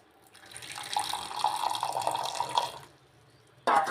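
Hot water is poured for lemon water, a soft, steady splashing stream that swells for about two and a half seconds, fades out, then gives way to a sudden louder clatter.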